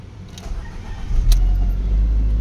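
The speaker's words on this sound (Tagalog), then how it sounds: "Try nating pandarin ang makina." A Ford EcoSport engine cranks and starts, a brief key jingle and click giving way to a rising low rumble that settles into a steady close idle, with no talking.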